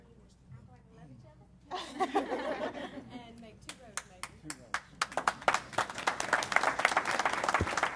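Applause breaks out for award recipients at a parish police jury meeting, starting softly after a voice and building into loud, scattered clapping from a room full of people, with some chuckling mixed in.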